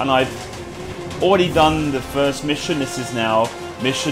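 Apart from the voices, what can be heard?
No everyday noise stands out behind the speech.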